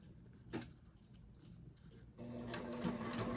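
A sewing machine stitching vinyl for a Lola bag, with a few faint clicks and taps at first, then a steady mechanical whir with a rhythmic needle chatter that starts partway through and runs to the end, close by with no talk.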